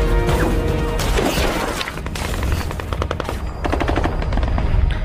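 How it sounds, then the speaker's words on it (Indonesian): Sniper gunfire in the film Sniper: Ghost Shooter: a loud, dense barrage of shots and cracking impacts, fired rapidly over a continuous crashing din. "Lagi dan lagi, rekan Brandon kesulitan mendeteksi arah letupan sniper setan tersebut"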